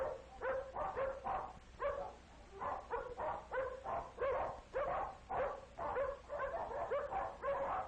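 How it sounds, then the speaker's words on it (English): Many dogs bark in a busy, overlapping chorus of repeated yaps and woofs, fairly faint and continuous. "It sounds as though there are many dogs nearby."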